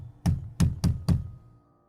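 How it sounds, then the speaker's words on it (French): Fist pounding the wall of an elevator: four heavy, hollow thuds in an uneven rhythm, close and fairly loud, each dying away quickly into quiet. "Il venait de frapper dans le mur de l'ascenseur."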